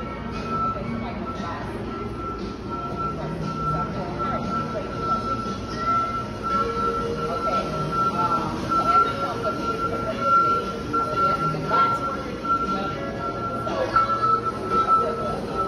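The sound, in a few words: airport people mover train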